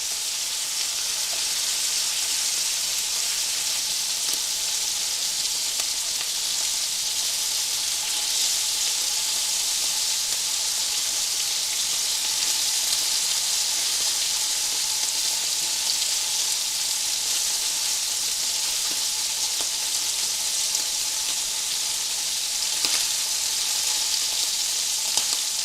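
Orzo browning in a pan for a copycat Rice-a-Roni, cooked off grid, gives a steady, even hiss of sizzling that runs unbroken and fairly loud, with only a few faint stirring clicks.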